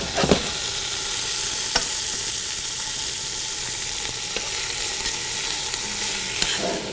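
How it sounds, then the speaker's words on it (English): Onions and a roast browning in a pan give a steady, even sizzle of frying throughout, with a few sharp pops and clicks rising above the hiss; no one speaks. "So we're just browning these onions, and we're browning the roast."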